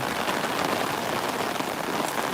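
Rain pours steadily onto surfaces in a parking lot behind a market, making a soft, even, unbroken hiss with no talking.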